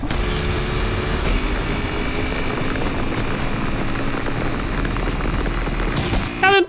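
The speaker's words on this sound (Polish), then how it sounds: "Zobaczmy, jedziemy sobie po autostradzie." Tuned car cruising down a highway in Need for Speed Unbound, its engine a steady, loud drone mixed with game music that fills the whole stretch without pause.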